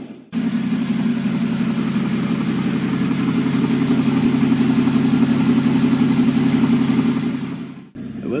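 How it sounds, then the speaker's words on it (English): A Porsche Cayman GT4 idles steadily from inside the cabin, a loud, even low engine hum with a fine regular pulse that holds for several seconds before briefly cutting out near the end. "we're now sat inside the Porsche Cayman GT4 at idle"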